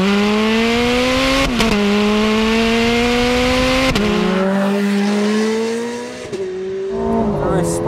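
A Ferrari 430 Scuderia V8 revving hard on an open road, a loud, high-pitched engine note climbing and dropping through several gear changes, with brief dips between shifts and a fading tail at the end.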